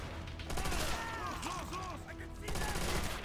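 Enemy gunfire in the World War II shooter Call of Duty: World at War: dense, sustained bursts of rapid shots with a brief lull, mixed with faint tonal game voices.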